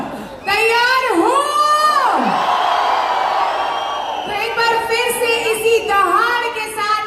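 A large crowd at an AWPL event roars with loud whoops, cheers, applause and high-pitched shouting, sustained throughout with a few voices rising above the din.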